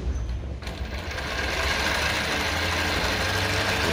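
A Jack ZIGZAG 20U63 sewing machine sews a wide zigzag stitch of about 15 millimetres, a steady loud mechanical whir that starts after a brief quieter moment and keeps going to the end.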